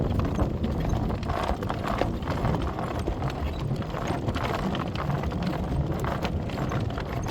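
Steady clip-clop of a horse's hooves on pavement at a quick, even trot while pulling a cart, with a faint rolling rumble of the cart underneath, continuous and fairly close.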